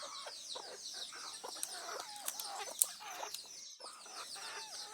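Village roosters clucking in a steady, busy chorus, with several sharper calls standing out over the continuous fowl chatter nearby.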